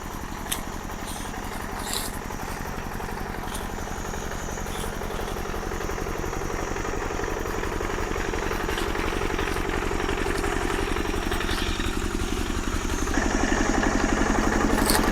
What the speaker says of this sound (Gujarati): તો જો જનરેટરનો અવાજ તમને આવતો હશે.